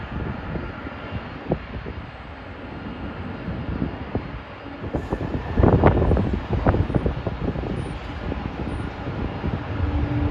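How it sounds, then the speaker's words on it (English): A McDonnell Douglas DC-10 cargo jet at JFK airport gives a steady, broad engine roar mixed with wind buffeting on the microphone, swelling louder midway as the aircraft passes nearer. "DC-10 aircraft, which was somewhat an unpopular aircraft."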